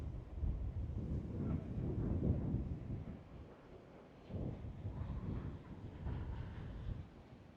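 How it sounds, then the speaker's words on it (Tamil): Strong, gusting wind buffets the microphone in heavy low rumbles, swelling and easing in waves with no voices. "காற்று நல்ல வேகமாகவே அடிக்குது"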